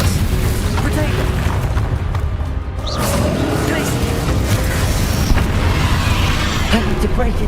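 A Bombarda explosion spell in Hogwarts Legacy during combat against defenders: a loud, sustained booming blast with rumbling debris over constant battle noise, close and heavy.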